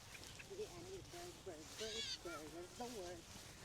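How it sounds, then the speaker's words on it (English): Blue jay calling near the edge of the woods on a summer farm, a handful of short, harsh harmonic calls in quick succession, fairly near, with voices talking at the same time. "Oh, a blue jay."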